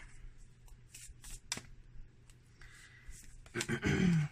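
Tarot cards are shuffled by hand in short riffling bursts and soft slides, quiet and close at first, then a louder sustained riffle at the end.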